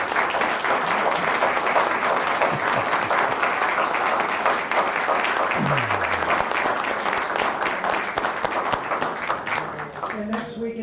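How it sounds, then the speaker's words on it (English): A studio audience gives a round of applause for guests on a talk show, the clapping dense and steady throughout before tapering off at the end, with a voice talking underneath it. "Round of applause."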